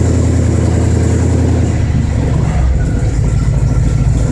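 A cold Ford engine with a freshly rebuilt Autolite 4100 carburetor idles steadily, a loud, close, continuous rumble that holds even, with no speech.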